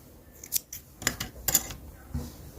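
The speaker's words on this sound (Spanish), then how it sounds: "Hacemos dos nuditos y cortamos el color rosado." Scissors snip through pink yarn while making an amigurumi mouse keychain, giving three or four crisp close cuts spaced about half a second apart.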